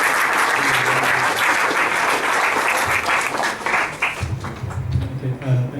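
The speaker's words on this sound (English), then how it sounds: "As Paul comes, let's clap for Sam." An audience at an entrepreneurs forum applauds a speaker in a dense, loud burst of clapping. The clapping thins out toward the end as a few low voices start to murmur.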